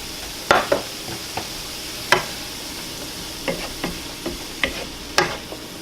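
Red and yellow peppers cook in a pan with a soft background sizzle. A spoon stirs them with scattered clinks and scrapes, close and fairly quiet, with no talking.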